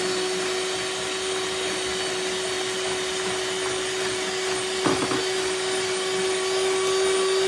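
An electric mixer whips cream with mascarpone and sugar, running as a loud, constant motor whine with a steady hum, broken once by a short knock of the beaters against the bowl.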